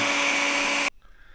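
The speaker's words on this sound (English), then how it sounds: "with the hairdryer, this comes off so much easier than just trying to get it off without one." A loud, steady electric whir of a hair dryer heating a part on an XR650L motorcycle runs for about a second, then cuts off abruptly into near silence.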